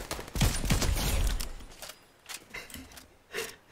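Gunfire in the Fortnite video game, a rapid burst of close shots for about a second and a half, followed by a few scattered single shots with quieter gaps.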